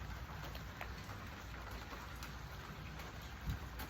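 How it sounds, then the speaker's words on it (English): Light rain sprinkles outdoors, a steady soft patter of drops with no one talking. "It's sprinkling a little bit."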